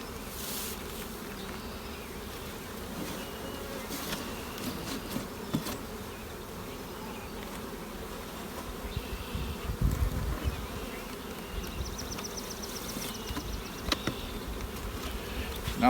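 Dense, steady buzzing of honeybees swarming around an open hive during a colony split, a continuous close drone with no talking.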